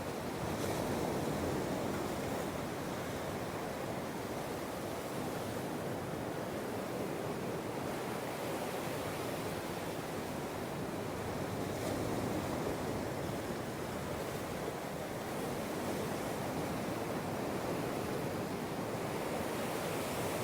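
Big ocean swells break on the shore in a steady, continuous wash of surf, with wind buffeting the microphone throughout and no voices.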